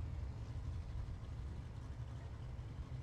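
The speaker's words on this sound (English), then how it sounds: "1985 Pontiac Trans Am." A turbocharged small-block 1985 Pontiac Trans Am at a drag race gives a steady, low engine rumble that sounds faint and distant throughout, with no distinct revving.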